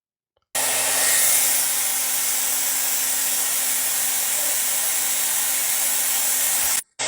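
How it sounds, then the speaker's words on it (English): A blow dryer aimed at the exposed fan of a PS4 with its outer shell missing, switching on abruptly and roaring loud and steady for several seconds before cutting off briefly near the end, with no talking. "He's got a blow dryer on the fan, all just to play NBA 2K25."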